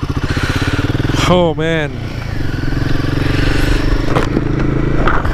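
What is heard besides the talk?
Royal Enfield Himalayan 450 motorcycle engine starting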